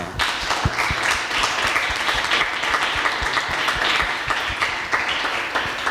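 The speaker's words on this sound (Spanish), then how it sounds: "un fuerte aplauso" Audience applause closing a panel session at a forum on audiovisual memory and identity in the Canary Islands, a steady, fairly close ripple of many hands clapping, with distinct individual claps standing out throughout.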